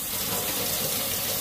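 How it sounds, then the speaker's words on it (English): Lukewarm tap water runs steadily from a faucet into a bowl at a sink for washing makeup brushes, a constant broadband hiss and splash that holds at an even level throughout, with no one talking. "I'm going to turn the water on"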